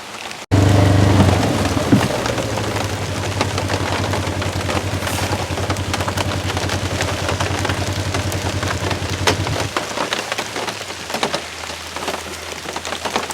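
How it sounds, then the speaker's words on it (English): Heavy raindrops drum steadily on the canopy of a swamp buggy in a downpour. A low engine hum runs underneath for most of the clip, then drops away, leaving the dense patter alone. "You can hear the heavy raindrops falling on the canopy of the buggy here."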